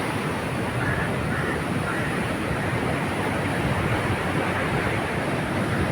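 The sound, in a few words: sea waves on the beach where Vasco da Gama landed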